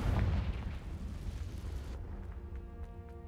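A Confringo blasting spell explodes in the Hogwarts Legacy video game: a loud, dense boom opens, then rumbling debris and sparkling magical tones ring and fade over the next few seconds, with no talk.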